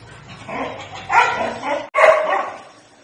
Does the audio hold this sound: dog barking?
yes